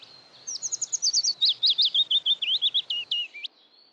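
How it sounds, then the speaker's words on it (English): Willow warbler song, a clear run of sweet tumbling notes that slides down the scale, sung close and alone for about three seconds against a quiet background. "Willow warbler. Descending note."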